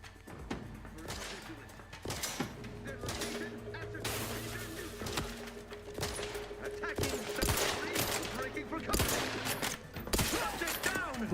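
Rapid gunfire bursts in the video game The Outer Worlds 2 crack repeatedly over a busy, loud backdrop of game sounds, with a voice heard briefly.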